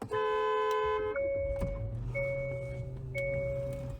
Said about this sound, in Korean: 자, 이렇게 빵빵 거리면서 문이 열릴 거예요